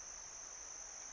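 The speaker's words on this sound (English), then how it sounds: "or a cricket hopping along a leaf" Cricket chirping in a gentle meadow setting, a steady continuous high-pitched trill held at even loudness throughout, faint and alone with no voices.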